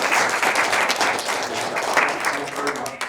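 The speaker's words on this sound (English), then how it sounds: "I think we show a round of applause of our gratitude for that" Audience at a corporate offsite meeting applauding in thanks: a fairly close, moderate burst of many hands clapping that swells and eases slightly, with some voices mixed in.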